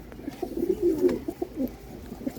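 Domestic pigeons, including a black-necked hen and her mate, coo softly in a home loft, a few low throaty phrases rising and falling close by without any speech.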